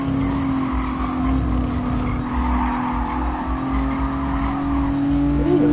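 A go-kart in GT Sport oversteers with tires squealing over a steady engine drone, the engine note holding close and loud throughout.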